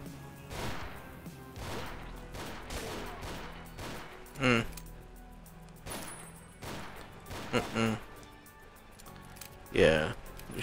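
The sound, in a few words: gunfire shooting slugs in video game GZDoom Ashes 2063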